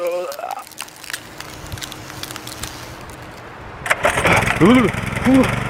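A Baja Warrior 200cc minibike engine cranks and catches, then runs with a rough, popping idle, heard close up after a stretch of quieter background and brief talk.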